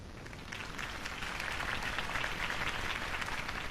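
A crowd in the Batman Telltale Series game applauds after Harvey Dent's campaign speech, a dense, steady wash of many hands clapping that swells slightly and holds at a moderate, somewhat distant level.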